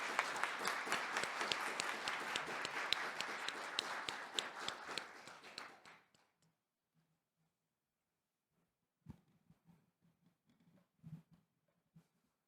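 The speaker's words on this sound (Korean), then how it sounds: "여러분 뜨거운 박수로 위원장님을 환영해 주시기 바랍니다" Warm applause from the audience at a Korean fair-trade compliance forum and awards ceremony, welcoming the Fair Trade Commission chairman to the stage. It is steady and fairly full for about six seconds, then fades to silence, followed by a few faint knocks and shuffles.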